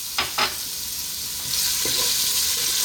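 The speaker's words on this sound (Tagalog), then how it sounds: "Unahin natin yung bawang." Garlic sautéing in oil in a cooking pot for pancit bihon guisado, a steady close sizzle with a couple of sharp scraping stirs at the start and a brighter surge of frying partway through.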